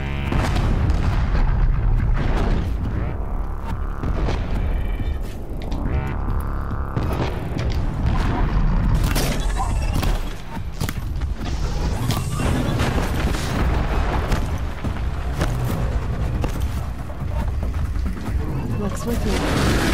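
Cannon fire from a Ravager machine in the video game Horizon Zero Dawn: heavy, repeated booming blasts that crowd a loud, dense mix of game sound with no pauses.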